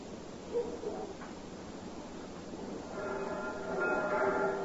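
Steady rumble of a train running along the rails, a radio show sound effect from a 1953 comedy broadcast, with a faint whistle-like tone entering in the second half.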